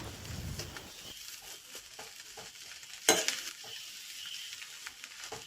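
Grated coconut being stirred into banana flower pathrode in a pan, a steady soft scraping and faint sizzle with one sharp utensil clink midway, close and alone.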